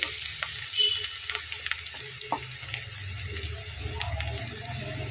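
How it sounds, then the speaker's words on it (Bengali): Chicken pieces fry lightly in a pan for a few minutes, a steady close sizzle with occasional stirring clinks and scrapes, no voices. "পাঁচ মিনিটের মতো আমি ভেজে নেব"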